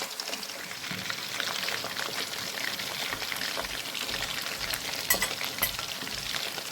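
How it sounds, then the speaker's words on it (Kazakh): Meat sizzles and crackles steadily in a kazan as it fries for kazan kebab, a dense, continuous hiss with occasional louder pops and stirring scrapes, close and alone without talk. "Етіміз қуырылып жатыр. Қып-қызыл қылып қуырып аламыз."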